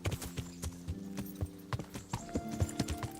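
A horse's hooves clip-clop in a steady trotting rhythm in the video game Kingdom Come: Deliverance, crisp and close, each footfall distinct over a low musical backdrop.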